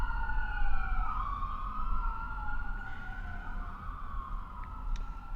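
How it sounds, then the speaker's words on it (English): An ambulance siren sweeps past at moderate distance, its wailing tones rising and falling steadily over a constant low traffic rumble. "Gonna let this ambulance pass."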